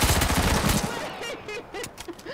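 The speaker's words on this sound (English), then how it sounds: "Show you all how good this Hellfire SMG actually is." A Hellfire SMG fires a rapid, loud burst of automatic gunfire in the H1Z1 video game on PS4, followed by quieter scattered shots and game effects.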